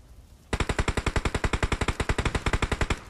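Rapid automatic gunfire in a battle royale shooter, a burst of about two dozen evenly spaced shots firing at an enemy, loud and close, starting abruptly after a brief quiet moment with no voices.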